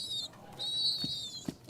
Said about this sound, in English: This is a baby pigeon.